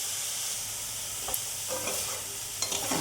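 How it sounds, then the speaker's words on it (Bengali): Paneer pieces frying in mustard oil with salt and turmeric, giving a steady close sizzle and hiss with a few light scrapes of a spatula in the pan. "পনিরটা আগে আমি এগুলো ভেজে নিব"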